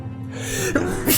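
A single short sneeze, sharp and close, with a quick gasping intake leading into it and a brief burst at the end.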